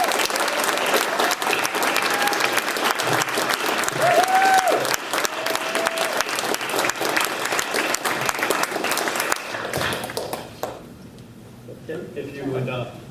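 Applause from the audience at a 2018 TSA awards ceremony for San Diego, Carlsbad and Imperial airports: sustained, dense clapping from a large crowd that continues loudly before thinning out and fading near the end.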